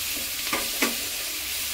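Vegetables with asafoetida and potato for sambar dal being stirred and lightly fried in a pan, a steady soft sizzle broken by two brief scraping strokes of the spoon.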